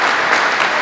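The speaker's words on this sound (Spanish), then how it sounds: "les ruego un fuerte aplauso aquí para el estado de Zacatecas" Sustained crowd applause at an international mobility-policy congress, a brief burst of thick, even clapping from many hands with no voices on top.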